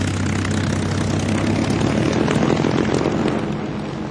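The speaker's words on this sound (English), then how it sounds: "A large force of American carrier planes took off to strike the Japanese battle fleet." Piston aircraft engines drone loudly and steadily, as American carrier planes take off to strike a Japanese battle fleet in World War II archive footage; a continuous propeller roar with no speech.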